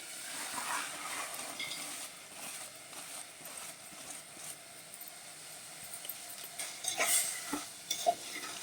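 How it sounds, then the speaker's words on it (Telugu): Jaggery pieces melting in a pan for purnam boorelu filling, stirred slowly with a ladle; soft scraping and a light sizzle run steadily throughout, with a few sharper clinks near the end, no talking. "చూసారా ఇగో బెల్లం ముక్కలన్నీ కరుగుతున్నాయండి"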